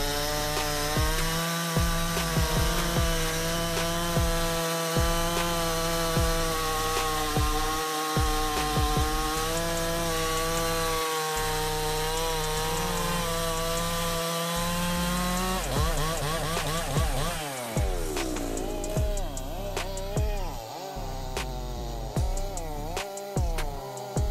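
A heavy-duty chainsaw with a bar nearly two meters long cuts through a log, its engine a loud, sustained, buzzing drone that shifts pitch and strains near the end of the cut.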